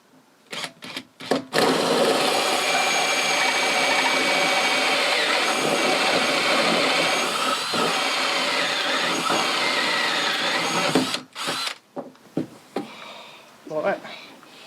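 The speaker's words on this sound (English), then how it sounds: "once we've finished drilling and making holes in this tank" A power drill bores into a plastic water tank. A loud, steady whine with a rough, grinding edge runs for about nine seconds, preceded and followed by short bursts.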